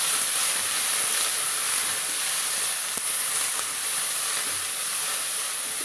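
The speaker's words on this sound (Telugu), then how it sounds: "వేసి మంచిగా ఫ్రై చేసుకోవాలి." Thinly sliced coconut fries in ghee with a steady, dense hiss and sizzle, constant and fairly loud, with no talking.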